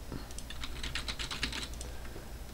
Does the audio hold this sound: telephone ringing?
no